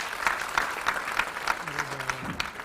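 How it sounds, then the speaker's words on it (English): An audience gives a round of applause at a televised quiz event, steady mid-level clapping spread through the room, with a voice briefly speaking underneath. "Please let's give them a round of applause"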